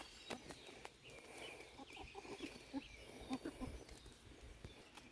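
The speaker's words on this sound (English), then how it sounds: "He is our rooster and he's kind of a jerk." A backyard rooster in a Missouri garden flock clucks and calls in a short run of low, faint notes, with a few sharp clicks and light background noise around him.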